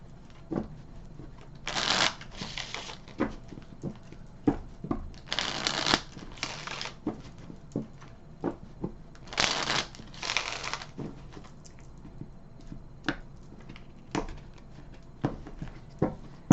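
A deck of tarot cards being shuffled in repeated crisp riffling bursts, close and fairly quiet, with soft card taps and handling sounds between the shuffles.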